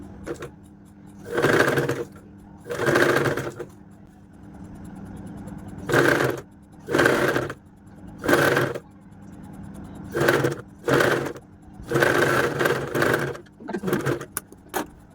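A sewing machine stitching a kid's frock and its lining, running in about a dozen short, close bursts of rapid whirring separated by brief pauses.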